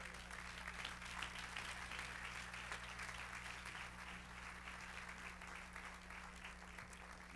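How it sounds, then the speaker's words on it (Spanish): A church congregation claps together in a steady burst of applause, the sound held at an even level throughout against a low constant hum, with no one speaking over it. "Dale un aplauso al Señor."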